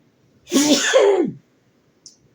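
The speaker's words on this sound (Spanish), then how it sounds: "Ya te dio estornudo" A single loud, close sneeze bursts out indoors during rain, followed by a tiny faint sound a moment later.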